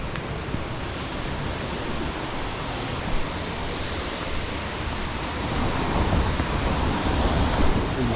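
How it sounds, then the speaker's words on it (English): Steady broadband rush of water from a small waterfall on the Lullwater Loop woodland trail in Hahn Woods, continuous and fairly close, with no voices. "So one waterfall on this trail."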